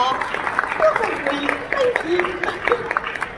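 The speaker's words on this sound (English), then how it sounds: "can we have a loud round of applause please?" Audience clapping at a caravan, camping and motorhome show, a dense patter of hands with voices talking and calling out over it throughout.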